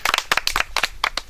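Several people clap in quick, uneven bursts at close range, short sharp hand slaps scattered over a second or so at a lively village gathering.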